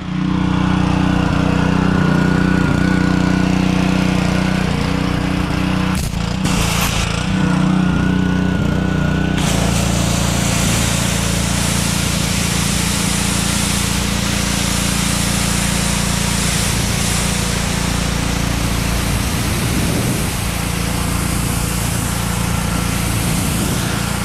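A gas pressure washer engine starts and settles into a loud, steady running drone, its rumble filling the space with a hissing spray layered on top for most of the stretch.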